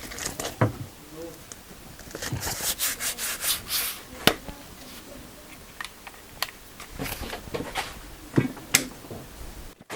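Wood sanded by hand with 80 grit sandpaper, heard as rough, uneven rubbing strokes in irregular bursts with short pauses between them. The strokes are close and moderately loud.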